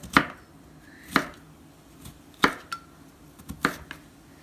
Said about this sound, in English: give it a little chop there